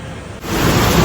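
Heavy rain near Paonta Sahib rises abruptly into a loud, close, broadband downpour after a brief quieter moment, with no one talking.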